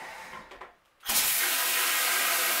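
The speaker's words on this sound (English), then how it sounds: "I'm just going to reach in here and turn the water back on, and we're ready to test it out." Water from a tap gushes on abruptly after the supply valve is reopened for a DIY toilet-paper-alternative setup, a steady loud spray following a brief quiet pause.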